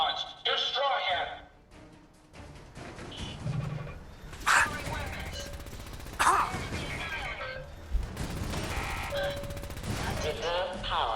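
Enemy gunfire in Fallout 4 during a fight with the Machinist and his robots, heard as bursts of sharp rapid shots and impacts mixed with electronic effects, under frequent talking.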